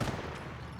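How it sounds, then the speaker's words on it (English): A Vickers machine gun emplacement in the Company of Heroes video game fires a dense, continuous burst of rattling shots that sits in the mix with other battle noise. "if the Vickers placement's going off like this, it can be hard to hear it"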